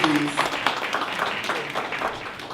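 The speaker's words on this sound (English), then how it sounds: "Can we get a round of applause" An assembly audience at a youth ministry networking event gives a round of applause, a steady patter of many hands with a voice briefly heard over it.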